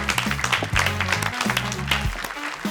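A studio audience at a comedy talk show applauds to welcome a guest, a dense continuous clapping with music playing underneath.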